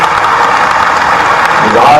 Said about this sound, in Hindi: इसका एक बार जोरदार ताली बजा करके पूरे आयोजन का